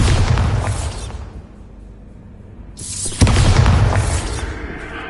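A Bombarda blasting-spell explosion in Hogwarts Legacy hits loud and near with a heavy low boom, then decays into a quieter stretch before a second sharp blast lands and rumbles on.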